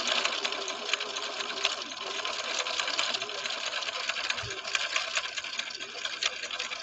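A 1970s Viking Husqvarna 6030 sewing machine stitches a blind hem, a steady, close, fast mechanical whirring and rattling that runs unbroken for the whole stretch.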